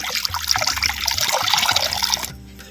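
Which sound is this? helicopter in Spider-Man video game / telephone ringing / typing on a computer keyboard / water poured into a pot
water poured into a pot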